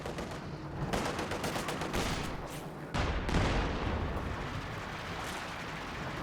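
Heavy artillery fire and explosions from a 120mm mortar in the Company of Heroes 2 World War II strategy game, with dense rumbling blasts throughout and a louder, deeper impact around the midpoint.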